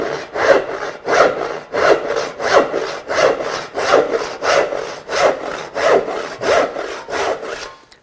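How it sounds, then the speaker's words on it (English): A joinery hand saw filed for cross-cutting makes short rip cuts for wooden half-lap notches on a Shaker bench, a steady, loud rasping with a regular back-and-forth stroke rhythm, about a dozen strokes, close and unaccompanied. "I'm going to saw the sides of the notches using my joinery saw."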